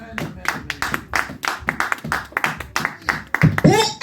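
A church congregation claps in rhythm to acclaim the Lord, quick repeated hand claps close by and mixed with voices, growing louder toward the end.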